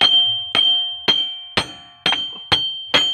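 A hammer strikes a broken wheel stud on an Isuzu Crosswind, seven loud metallic clangs at a steady rhythm about every half second, each ringing briefly, with no speech.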